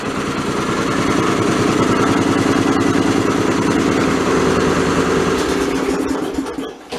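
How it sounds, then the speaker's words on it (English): A Snapper 30083 riding mower engine runs steadily and loudly up close, a rough, throbbing mid-pitched idle that holds even for several seconds before cutting out near the end. "I might as well start it up. Runs about the same as it always did."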